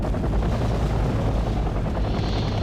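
Mi-8T helicopters landing in the video game Wargame Red Dragon, a loud, steady, dense rotor and engine roar filling the whole clip with no pauses.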